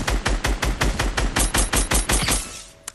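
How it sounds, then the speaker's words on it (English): Rapid automatic gunfire in Fortnite, a steady rattle of about a dozen sharp, loud shots that thins out and stops near the end. "Y'all are both shooting me at the same time."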